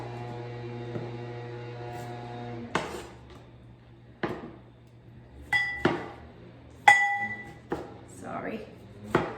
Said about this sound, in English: So I'm chopping my tomato pretty small